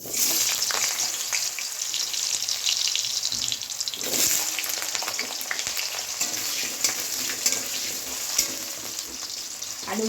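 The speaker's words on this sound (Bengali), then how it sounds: "আলুগুলো একটু ভেজে নেব।" Potatoes frying in hot oil give a steady, continuous sizzle and crackle with occasional louder spits, close and alone with no voices.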